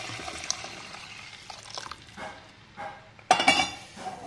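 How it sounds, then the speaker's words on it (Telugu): Boiled hot water poured into a pan of crab curry: faint clinks and trickles at first, then a sudden louder splashing pour near the end, heard close in a kitchen. "కాగబెట్టుకున్న వేడి నీళ్ళు పోసుకున్నా"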